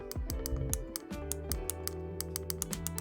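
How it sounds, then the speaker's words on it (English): Back buttons K1 and K2 on a HexGaming PS5 controller pressed close to a microphone, giving a quick series of crisp, light plastic clicks in an irregular rhythm, with no talking. "Right now I'm going to press the K1 and K2."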